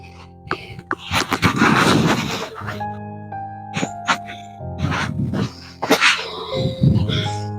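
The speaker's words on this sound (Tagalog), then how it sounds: "Naku, may aso." Angry dogs bark in a village neighborhood in the Philippines, a burst of loud, overlapping barks and yips with whimpering between them and a brief human exclamation.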